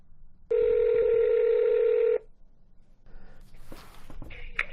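A telephone ring tone sounds once, steady and loud for about two seconds, on an outgoing call to Shawnee, Ohio City Hall, followed by line noise and clicks as the call connects.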